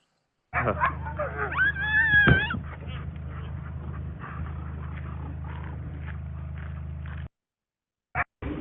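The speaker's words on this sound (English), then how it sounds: "There's a quick video on the next slide of some rather adorable puppies." Small puppies whimper and yelp over a low steady hum, with high squeaky cries early on, then a brief silence and a short final yip.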